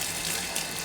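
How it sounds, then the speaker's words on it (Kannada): Tap water runs steadily over raw mangoes being washed, a brief close, continuous splashing rush with no voices. "ನೀರು ಹಾಕಿ ತೊಳಿತೇನೆ"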